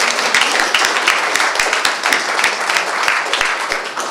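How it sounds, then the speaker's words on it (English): An audience applauds after a talk, dense steady clapping that fills the whole stretch at a moderate level. "Or applause."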